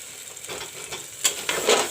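Chili masala fries in a pan while being stirred for matar sabji, giving a soft continuous sizzle with a few scraping strokes, close and without talk.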